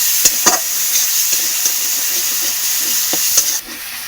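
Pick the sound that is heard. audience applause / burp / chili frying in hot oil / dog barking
chili frying in hot oil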